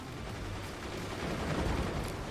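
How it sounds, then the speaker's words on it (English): Machine gun volleys in the Forts real-time strategy game, a muffled, continuous rattle of fire that swells slightly toward the end, heard alone without voices. "so many volleys fired off of those machine gunners"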